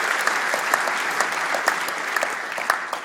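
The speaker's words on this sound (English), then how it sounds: "in his absence I still would like to ask for a round of applause for his third prize" A hall audience applauds a third prize at a physics teacher award ceremony, even and sustained clapping from many hands, moderately loud throughout.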